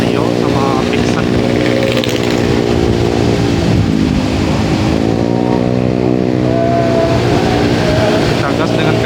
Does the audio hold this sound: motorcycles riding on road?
yes